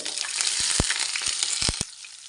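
Thinly sliced onion fries in a pan with a loud close sizzle, punctuated by a few sharp stirring knocks before cutting off abruptly.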